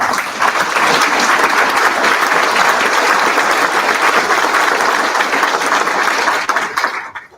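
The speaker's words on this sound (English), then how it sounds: "I think we need to give them a round of applause" Audience at a judge's swearing-in ceremony giving a sustained round of applause, loud, dense and steady clapping from many hands that tapers off at the very end.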